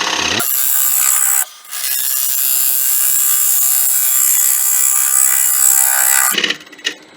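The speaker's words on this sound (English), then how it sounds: "now I'm going to hit that with the big negative rate scraper." A big negative rake scraper held at centre height against a spinning wooden bowl on a lathe makes a loud, steady, high rasping shriek that drops out briefly near the start, then holds for several seconds before stopping.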